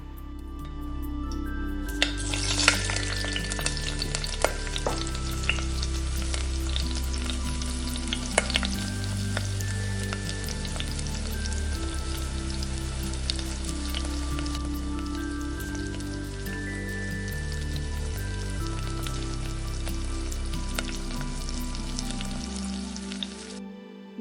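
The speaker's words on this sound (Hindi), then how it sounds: "जब सारे आलू रोल हो जाएंगे तो हम इनको ऑयल में फ्राई कर लेंगे।" Potato rolls held with toothpicks deep-frying in hot oil, a steady, bubbling sizzle that stays even and fairly quiet for the whole stretch, with occasional small pops and crackles.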